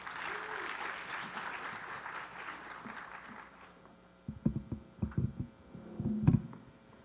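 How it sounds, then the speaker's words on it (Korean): A church congregation applauds for several seconds, a steady, moderately loud wash of clapping that dies away, followed by some sparse thumps and voices. "박수로 맞이하겠습니다."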